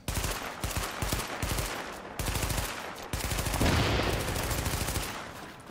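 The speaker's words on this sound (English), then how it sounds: "we'll go for the old explosive bullet" Explosive bullets fired in The Division video game, loud rapid bursts of automatic gunfire with sharp repeated cracks, broken by short pauses and a sustained stretch of fire.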